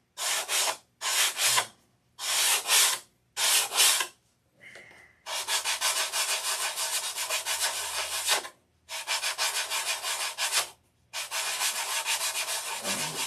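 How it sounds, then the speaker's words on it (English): Dried Super Fill filler is sanded by hand in repeated rasping strokes, short scrubbing bursts separated by pauses and then longer sustained passes, loud and close with no speech. "It's starting to dry so I can sand it."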